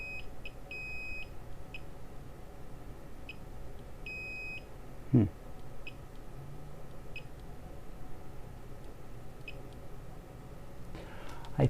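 A digital multimeter in diode test mode, probing signals on a faulty SanDisk SD card during data recovery, gives several short high beeps, some single and some doubled, over a low background hum with a couple of clicks.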